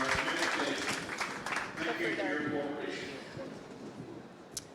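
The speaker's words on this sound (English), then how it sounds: "Let's give these guys a round of applause." An audience at a COP26 event on zero-emission charging infrastructure applauds, a dense wash of clapping mixed with voices that gradually thins and fades.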